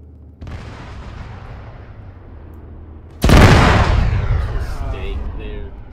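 Detonated charges in the Arma 3 video game go off in one loud, heavy explosion partway through, after a low rumbling stretch, followed by a long decaying roar with fainter crackles.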